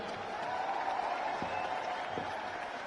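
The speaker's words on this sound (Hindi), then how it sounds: "एक बार इनके लिए भी जोरदार ताली हो जाए" Crowd applause for party officials at a large political rally in Delhi's Indira Gandhi Stadium: a steady, fairly faint wash of clapping from many people, continuous for the whole stretch.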